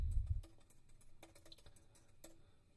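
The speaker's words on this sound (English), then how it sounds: "So if I let me type a website address in." Several short bursts of typing on a computer keyboard while entering a website address for an Xcode text-field tutorial, soft close clicks in uneven clusters with quiet pauses between them.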